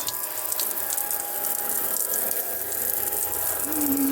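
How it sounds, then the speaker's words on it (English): Water runs steadily from a small shower in a VW T5 camper van tailgate with a constant hiss, and a faint mechanical hum from a pump sits underneath. "Listen, the van's got a shower."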